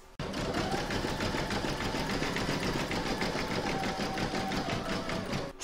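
An embroidery machine zigzag-stitches the raw edges of an in-the-hoop mandala placemat, a steady, close, continuous whirring hum with fine rhythmic needle pulses that runs unbroken throughout, with no voices.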